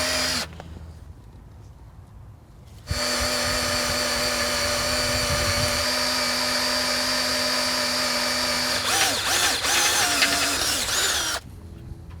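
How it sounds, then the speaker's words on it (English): A power drill runs steadily at close range, driving screws down on the track of a large shop-built bandsaw mill, with a short whir before the long continuous run and a pitch change near the end. "I'm going to tighten these 2 screws down so that the track can't move"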